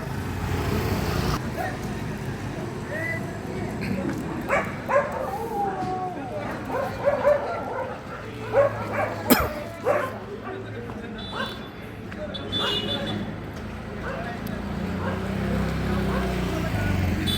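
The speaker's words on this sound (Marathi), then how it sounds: "रात्री झाली म्हणजे इथं मोकट कुत्र्यांचा वावर मोठ्या प्रमाणावर सुरू असतो" Stray dogs bark and yip on a city street in Ahilyanagar at night, a burst of sharp barks clustered mid-clip against a steady wash of traffic and street noise.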